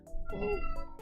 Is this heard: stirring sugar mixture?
no